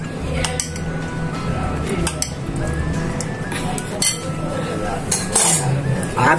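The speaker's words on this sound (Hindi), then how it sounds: "अब हम इसमें प्याले में डालेंगे इस तरह" Chicken corn soup is ladled into a bowl, with repeated clinks and clatters of a metal ladle against bowl and pot, close and busy, with a voice briefly underneath.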